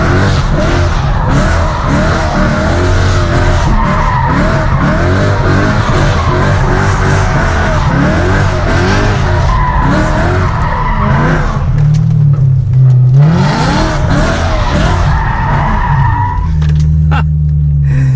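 A BMW M3 drifts on worn tires, its engine roaring and revving loudly and continuously while the tires squeal and skid, with pitch swings as the car slides around.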